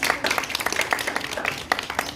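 Students and staff at a school Human Rights Day celebration applaud, a short burst of brisk, uneven clapping from a room-sized group at moderate volume.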